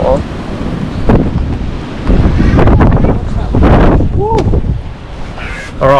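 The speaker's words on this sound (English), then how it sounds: "she's getting windy and wild" Strong gusts at a coastal bush camp on South Australia's Limestone Coast buffet the microphone in heavy, uneven bursts, with brief whistling tones and splashing water in the mix.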